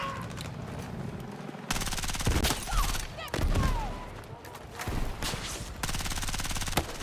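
Rapid bursts of automatic gunfire in the game Battlefield 6, loud and close, coming in clustered volleys with brief pauses amid a busy battle soundscape.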